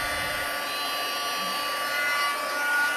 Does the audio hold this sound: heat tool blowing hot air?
yes